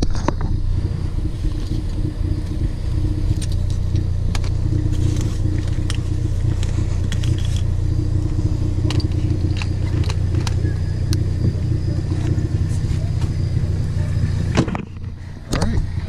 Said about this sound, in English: So the car's still on.